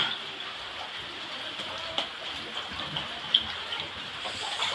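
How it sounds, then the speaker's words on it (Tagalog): Rain falls steadily during Typhoon Carina's flooding, a soft, even hiss with a few scattered drips and splashes close by and no talking. "Patuloy pa rin ang ulan, no?"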